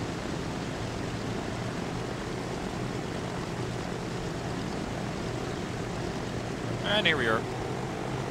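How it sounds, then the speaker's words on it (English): A propeller aircraft in the Transport Fever video game circles for another landing attempt, its steady engine drone humming throughout as a continuous backdrop while a voice speaks briefly near the end. "I think the aircraft is doing another go-around because the landing strip might be occupied"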